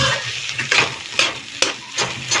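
Bhaji of bhedailota and babori greens fries in a pan, a loud close sizzle punctuated by rhythmic scraping stirs roughly every half second.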